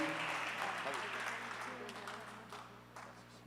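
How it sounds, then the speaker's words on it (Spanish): A church congregation breaks into applause after a worship ministry's praise set, a dense wash of clapping that slowly fades over a steady low hum, with a voice talking over it. "Dale un fuerte aplauso a nuestro Dios."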